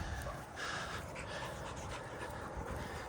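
A dog pants steadily in quick, breathy rhythm, fairly close, against a noisy background for the whole stretch.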